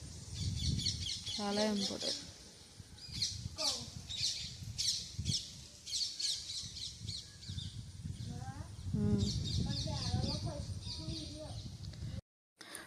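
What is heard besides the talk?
morning birds chirping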